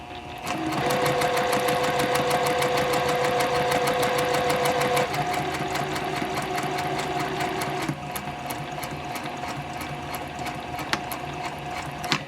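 A sewing machine stitches the side seam of a Christmas stocking cuff at 2.5 stitch length, a loud, close, steady rapid clatter that runs unbroken, easing slightly in pitch partway through before slowing near the end.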